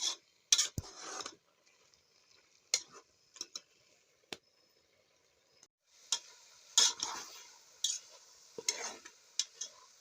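A spoon stirs dried apricots cooking down into a thick paste in a pot, giving scattered scraping clicks and brief knocks against the pot with quiet gaps between them.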